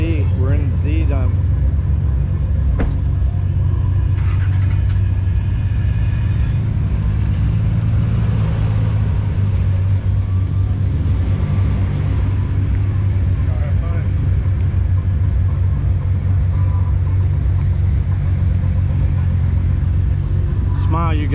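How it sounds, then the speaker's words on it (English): A group of Nissan Z32 sports cars, including a red twin turbo, drive together on a highway at a Z car meet, their engines a constant heavy rumble with road and wind noise, a voice talking over it. "so we're in group three behind Cade and his red twin turbo. So it's two red Z32s leading the pack"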